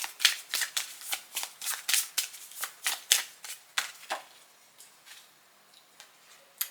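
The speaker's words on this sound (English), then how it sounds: "I'm going to be pulling a card for us" Rune oracle cards shuffled by hand give a run of quick, crisp riffling flicks that slow and fade into a few soft taps and slides as a card is drawn.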